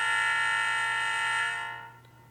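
A Rapido RS-11 model diesel locomotive sounds its horn, a single sustained, multi-tone blast from a small speaker over a low electrical hum, fading out after about a second and a half.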